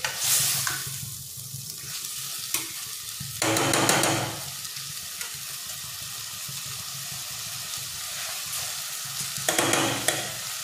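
Fish sizzles as it is tossed into a hot pan for Malvani-style kolambi (prawn) chutney, with steady frying hiss broken by bursts of louder stirring and scraping; no voices.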